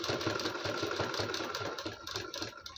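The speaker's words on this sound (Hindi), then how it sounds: "अब इसी पे सिलाई लगाते जाएंगे।" A sewing machine stitches piping onto a blouse neck in a rapid, even run of needle strokes, close and fairly quiet, with no voices.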